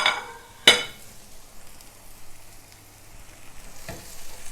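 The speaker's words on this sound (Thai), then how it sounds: "ผัดทุกอย่างให้เข้ากันค่ะ" Pork belly tossed with kaffir lime leaves and red chili in a hot pan: a sharp clank near the start, then a soft, steady sizzle with occasional scraping as everything is stirred together.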